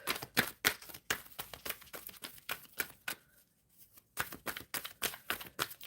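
Tarot cards riffled and shuffled in quick repeated bursts, crisp and close, with a short pause midway before the shuffling resumes.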